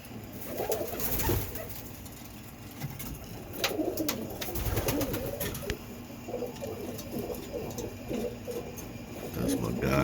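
Roller pigeons coo repeatedly in soft, rolling bursts from nearby perches, with faint rustling and scattered knocks in between, the cooing recurring steadily throughout.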